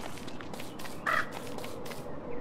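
A crow in the video game Don't Starve caws once, clearly and nearby, over a bed of game ambience with faint rhythmic footsteps.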